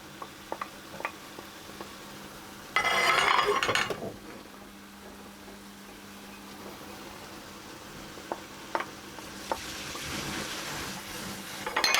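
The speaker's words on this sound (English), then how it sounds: "I'm going to put my other vegetables back in" Vegetables for ratatouille dropped back into a pot with thyme and bay leaves land in a loud burst of clattering sizzle, then a quieter simmering hiss with scattered clicks of a utensil, close, with no talk.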